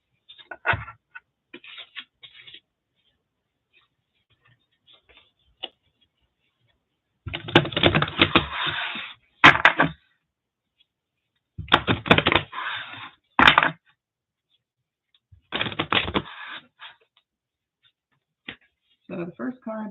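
Oracle cards are shuffled and handled in several bursts of rapid papery riffling and rustling, with quiet pauses and soft taps in between.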